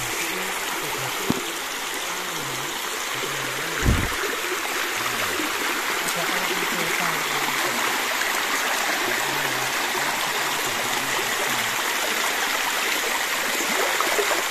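A forest river runs over rocks in a steady, even rush of flowing water, close and continuous, with a couple of faint knocks and a low hum in the background.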